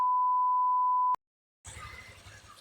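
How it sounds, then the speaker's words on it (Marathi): A censor beep from a Matheran travel vlog sounds as one steady, pure electronic tone lasting about a second, then cuts to silence before faint outdoor background noise comes in. "बीप करेन मी मध्येच."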